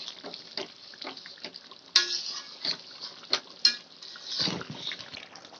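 Homemade chicken curry gravy bubbles in a pot, with soft liquid burbling and a few sharp clinks of a utensil against the pot, no voices.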